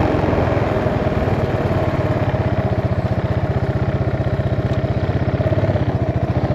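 A 2007 Buell Blast single-cylinder motorcycle engine, half a Sportster engine, idles with a steady, loud, rapid thumping pulse throughout, close up and with no voices.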